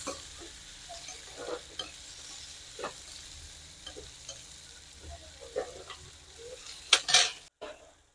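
Cumin seeds and onions frying in hot oil, with a soft crackle and sizzle broken by scattered spoon and pan clinks and a few louder metallic knocks near the end.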